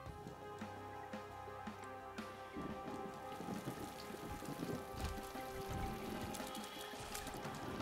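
Heavy rain downpour from a video game, a steady dense patter of drops falling across a surface throughout, with a low droning rumble in the first few seconds and no voices.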